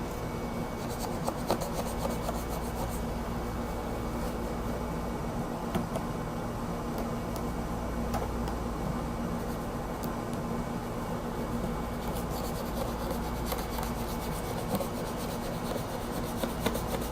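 Aluminum tape is rubbed flat with the smooth edge of an SD card, producing a continuous close scratchy rubbing with small clicks and scrapes throughout, no voices.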